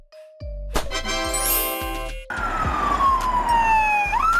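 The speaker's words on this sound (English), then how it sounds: "It moves fast with sirens and lights." An ambulance siren from a van ambulance sounds loud and near. It opens with a horn-like blare, then a long falling wail with a rise at the end.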